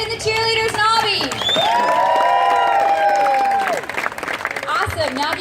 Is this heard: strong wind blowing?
no